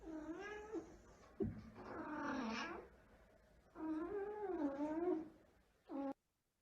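A pet cat meowing indoors, three drawn-out, wavering yowls separated by short pauses, followed by a brief final meow, close and clear.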